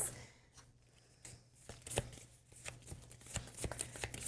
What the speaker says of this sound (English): shuffle it up and give me one